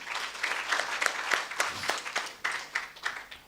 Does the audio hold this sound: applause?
yes